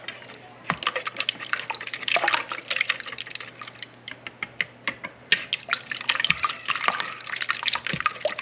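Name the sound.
whisking eggs with a pinch of salt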